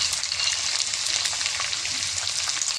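Sliced onions sautéing in oil in a pan for a mushroom curry, giving a continuous close sizzling hiss with light crackle, steady and alone without talk.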